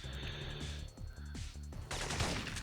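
Sniper shotgun shots in the PS1 game Syphon Filter, a few separate blasts spaced apart, fairly quiet, among other gunfire and game noise.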